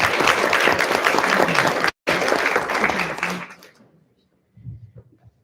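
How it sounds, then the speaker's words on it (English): Loud, dense audience applause fills a Hope Connection Gala 2022 fundraiser hall, cuts out for an instant, then fades away to near silence, followed by a brief low murmur of voices. "I gotta applaud you all for that."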